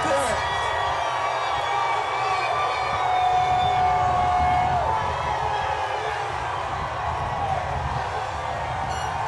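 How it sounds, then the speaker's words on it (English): Thousands of Thunder fans cheer along a victory parade route, a dense roar of crowd noise with wailing sirens and horns rising above it, while a voice talks over the din. "How excited is this crowd"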